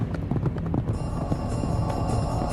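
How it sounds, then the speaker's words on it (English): Horses galloping in a fast chase, rapid clip-clop hoofbeats close and fairly loud, with a dense rhythmic patter throughout and no talk. "they galloped off toward Shaolin"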